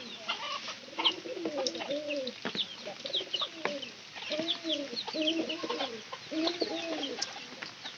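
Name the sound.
chickens in a poultry yard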